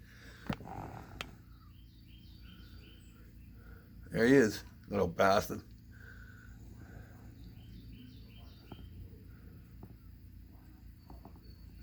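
Small birds chirp outdoors in short, faint, repeated calls in the background while someone talks nearby.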